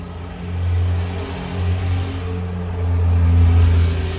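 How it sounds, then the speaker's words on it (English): Cars drive past outdoors as a low, steady rumble that swells and fades twice across a few seconds, with no talking. "I'm so sorry about the cars going past."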